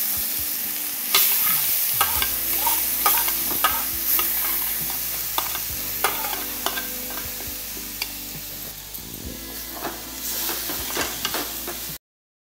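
Grated carrot stirred in ghee in a pan for carrot halwa: a continuous sizzle with repeated scraping and clattering spoon strokes against the pan, close and steady until an abrupt cut.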